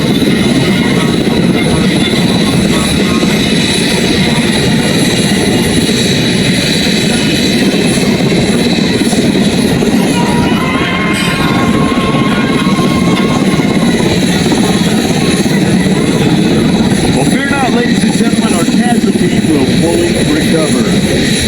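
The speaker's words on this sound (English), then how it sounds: "Once the HH-60 call sign IC-76 reaches the survivor, the pilots will hover over the casualty" An HH-60 rescue helicopter hovers over a casualty during an air show rescue demonstration in Alaska, its loud rotor and turbine roar constant and close throughout while a narrator talks over it.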